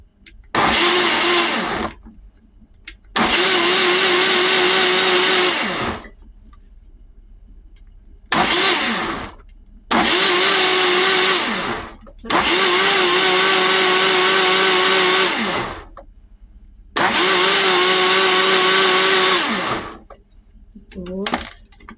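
Blender whirring through an avocado smoothie, five loud bursts of motor noise separated by short pauses, each rising and settling to a steady high whine, close by and alone.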